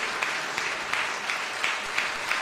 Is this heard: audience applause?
yes